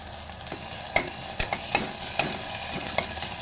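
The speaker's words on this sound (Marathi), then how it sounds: "आता टाकते कांदा आज घाई आहे त्यामुळे कांदा आणि टोमॅटो मी एकत्रच टाकते" Onion and tomato frying together in a pan for amti, with a steady sizzle under repeated sharp stirring scrapes of a spoon against the pan, close and fairly loud; no speech.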